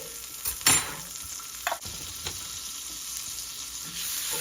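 Garlic frying in a pan for a grouse and eggs dish gives a steady close sizzle with a few scraping stirs and clatters, quieter in the middle and with no voice.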